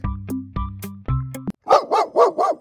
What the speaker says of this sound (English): What is this? Dog.